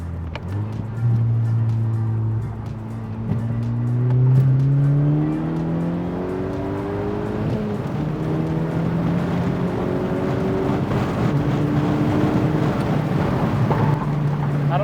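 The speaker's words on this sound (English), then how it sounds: "I don't know if you guys can hear too much of the exhaust note, but just did a little pull" A car engine's exhaust note rises in pitch as it accelerates through a couple of gears, steady and fairly loud, with road and wind noise underneath.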